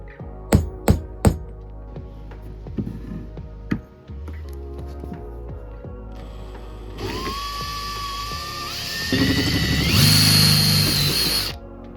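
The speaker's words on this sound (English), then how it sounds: "Next, I drilled the holes for the 10mm bolts going into the crank pulley boss." Power drill boring holes for 10mm bolts in a steel bar for a homemade Miata crank pulley tool, a few knocks and clicks first, then a rising whine and loud grinding bite into the metal, close up.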